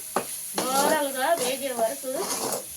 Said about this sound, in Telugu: ఇలా కలుపుకోవాలండి బాగా వేగిందండి రెండు నిమిషాలు